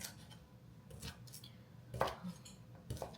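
Organic grass-fed beef sausages sliced into rounds on a cutting board, quiet knife taps and a few sharper chops irregularly spaced, close but faint, no talk.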